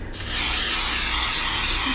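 A steady aerosol hiss of cooking spray on a baking pan, close and continuous for a couple of seconds after a brief quiet start.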